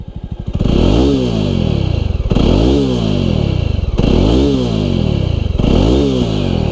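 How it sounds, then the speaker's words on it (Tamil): A Jawa 300 motorcycle's exhaust, loud and close, revved repeatedly in four rising-and-falling throttle blips from a steady idle, the engine note alone without talk. "ஸோ இதான் எக்ஸாஸ்ட் நோட்"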